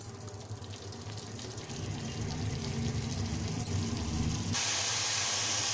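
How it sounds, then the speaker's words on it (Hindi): Ginger-garlic paste and masala roast in a hot pan, giving a steady hissing sizzle that grows louder partway through and stays bright and continuous. "टू मिनट ऐसे ही भून लेंगे मसाले को ताकि इसकी स्मेल निकल जाए"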